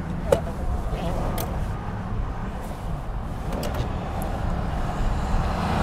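A 2021 pickup truck fitted with Air Lift LoadLifter 5000 rear air helper springs and carrying a load drives a slalom course, its engine and road noise a steady low rumble with brief rattles, heard from inside the cab.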